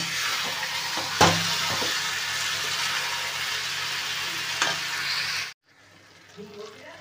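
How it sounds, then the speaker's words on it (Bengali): Cabbage and boiled potatoes stirred together in a pan for a cabbage and fish-head ghonto, a steady close sizzle with scraping thumps of the spoon, cutting off to near silence near the end. "এবারে সেদ্ধ করে রাখা আলুগুলোকে কপির মধ্যে দিয়ে দেবো, দিয়ে ভালো করে নেড়ে চেড়ে নেব"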